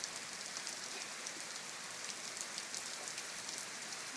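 Rain falls steadily on hard surfaces outdoors, a close, even hiss of pattering drops with sharper individual taps scattered throughout, unbroken and without speech.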